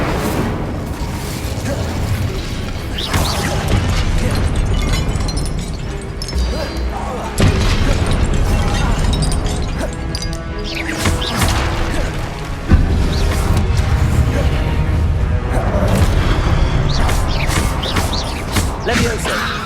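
Incendio fire spell cast in the video game Hogwarts Legacy, loud whooshing bursts and booming crashes amid battle noise, with a voice shouting spell names over the effects.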